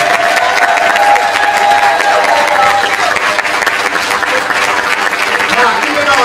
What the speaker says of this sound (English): I would like for all of our TES scholars to stand up for a round of applause.